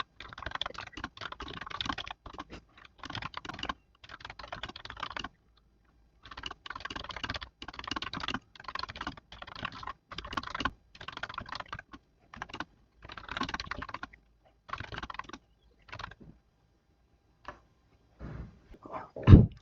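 Typing on a computer keyboard, steady runs of quick key clicks broken by short pauses, close and clear with no talking, ending on a louder final tap.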